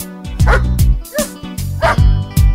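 A dog barks and yips repeatedly in a loud, rhythmic pattern over a German pop song's music, several sharp barks spaced across the short stretch.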